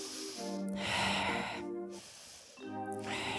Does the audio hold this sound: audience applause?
no